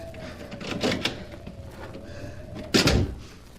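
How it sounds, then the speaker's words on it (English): A door is opened as a radio drama sound effect, a creak and latch click followed by a louder thud near the end, set against a faint steady hum. "Here's a door. If it's only unlocked. Oh, it is."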